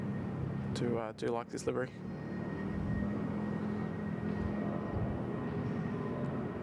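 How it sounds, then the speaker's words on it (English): A Bangkok Air Airbus A319 on its takeoff roll at Bangkok Suvarnabhumi Airport gives off a steady, distant engine roar and broadband rumble that hold throughout, with someone briefly talking over it near the start. "Here we go, Bangkok Air A319 on the roll now."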